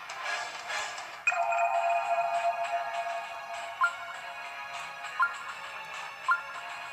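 An electronic telephone ringtone from the Final Fantasy VII video game plays as a steady tonal ring, followed by a few short, bright beeps at intervals, with no talking over it.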